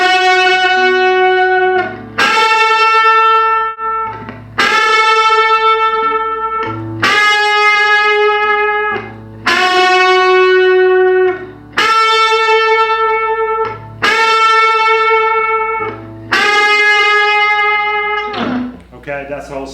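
Electric guitar solo with effects, a series of repeated bright sustained phrases with short gaps between them, loud and close with no talking.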